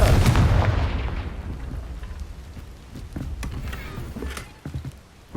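A Confringo blasting spell is cast in Hogwarts Legacy: a loud booming burst opens the clip and then fades into rumbling, crackling debris, with smaller impacts and a fresh thud near the end.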